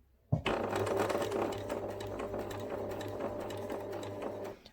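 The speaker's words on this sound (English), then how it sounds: "I'm just going to sew really slowly" Sewing machine running slowly and steadily while stitching around a fabric paw on a memory bear, a continuous close mechanical whir with a low hum, no voices.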